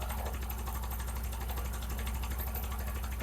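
A motorcycle engine runs at raised RPM during carburetor tuning, a fast, even, buzzing drone that holds steady and close throughout, with no speech over it.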